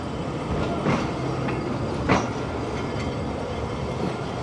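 A Pakistan Railways train moves off from Alipur Chatha, heard from the guard's cabin as a steady rolling rumble with occasional sharp wheel-on-rail clanks and faint squeals, no voices over it.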